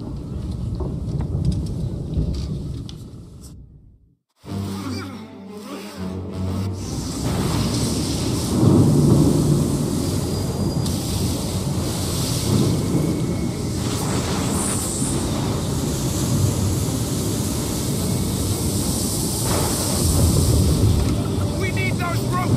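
A storm at sea in Assassin's Creed III: a steady, loud roar of wind, rain and rolling thunder over churning water, broken by a brief near-silent gap, with voices speaking over it.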